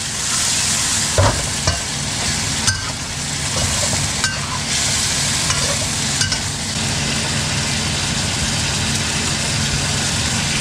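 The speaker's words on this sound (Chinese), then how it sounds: "放醋，大火把它烹一下。" Food stir-fries in a hot wok over high heat with vinegar splashed in, a loud continuous sizzle broken by repeated scraping and clanking of the spatula.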